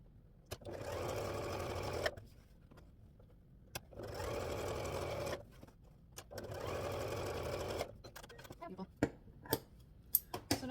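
A sewing machine stitches a flying geese quilt block in three steady bursts of fast, even whirring, separated by short pauses, then a few sharp clicks and taps as the fabric is adjusted.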